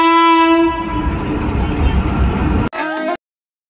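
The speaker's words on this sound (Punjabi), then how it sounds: "ਟ੍ਰੇਨ ਆਪਣੀ ਜਿਹੜੀ ਆ ਸਟੇਸ਼ਨ 'ਤੇ ਪਹੁੰਚ ਗਈ ਹੈ" Passenger train pulling into a crowded Punjab railway station during a fair, its long horn blaring loudly over rumbling carriages before cutting off abruptly.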